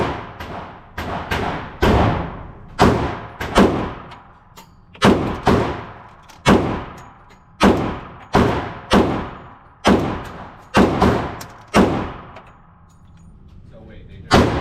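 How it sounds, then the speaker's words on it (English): A Glock pistol with a tactical light fires heavy 230 grain hard cast bullets, sharp loud reports coming in quick pairs and bursts with short echoing decays, about fourteen shots spread over the stretch. "I'm shooting this double tap 230 grain hard cast bullet."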